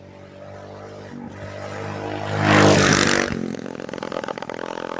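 A Manco Critter 2 minibike engine revving up on a speed run, rising to a loud close roar that peaks and then settles into a rough, rattling idle-like drone.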